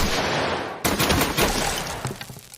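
A sudden loud volley of gunfire crackles out at once, followed by scattered echoing shots and rattling that gradually fade away.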